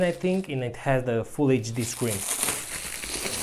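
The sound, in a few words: protective plastic wrapping of resin printer crinkling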